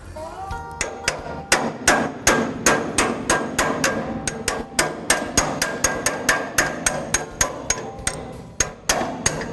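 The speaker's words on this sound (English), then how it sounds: "The only thing they need is a punch like this and a hammer." Sharp metallic hammer taps on a punch, driving out a pin, repeat quickly and steadily at close range, dozens of strikes in a row.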